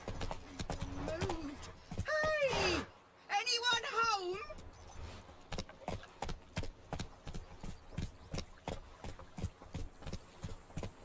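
Horse hooves clip-clop at a steady gallop in the video game The Witcher 3, a regular rhythm of thuds running under a man's brief call and a whinny-like vocal burst.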